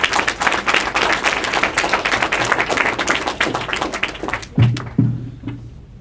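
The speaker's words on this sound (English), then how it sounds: "Scholars another round of applause." An audience at a school district board meeting claps for student scholars, a busy round of applause that is steady at first and then thins out into a few last claps and a thump near the end.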